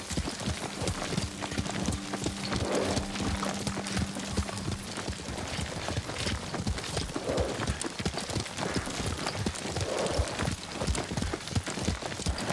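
Rapid rhythmic clip-clop of horse hooves at a steady gallop in the video game Ghost of Tsushima, continuous and close, with a faint ambient hum in the background.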